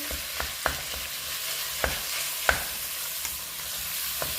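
Minced meat frying in a pan as it cooks for several minutes, a steady low sizzle with scattered sharp ticks and pops from stirring and spattering, heard alone without voices.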